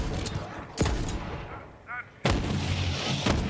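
Gunfire in the video game Borderlands 3, two heavy booming shots with long decaying tails separated by a quieter stretch and a brief warbling electronic tone, fairly loud and close.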